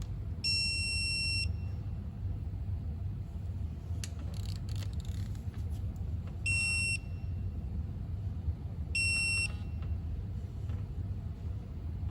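A digital torque wrench set to 47 Nm, tightening an idler pulley on a Hyundai Tucson timing belt job, sounds three shrill electronic beeps, the first about a second long and two shorter ones later, over a low background rumble.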